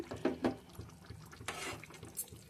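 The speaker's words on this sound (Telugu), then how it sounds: "ఇప్పుడు ఇందులో ముందే నానబెట్టుకున్న చింతపండు ఉంది కదండి, దాంట్లోంచి రసం తీసి 1 కప్పు ఇందులో పోసాను." Tamarind juice pours into a pot of bottle gourd masala curry in short liquid splashes and trickles, close and fairly quiet, with no talk.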